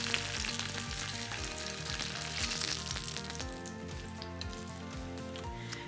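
Sesame-crusted tuna searing in a hot pan gives a steady, loud sizzle and crackle that runs the whole way through, with no voices over it.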